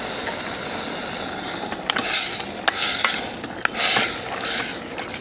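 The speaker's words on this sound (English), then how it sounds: "Give that a good stir." Clams and clam juice are stirred in a pot of seafood chowder broth, with a series of scraping, clinking spoon strokes against the pot and a soft bubbling underneath, and no voices.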